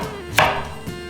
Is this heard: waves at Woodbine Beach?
no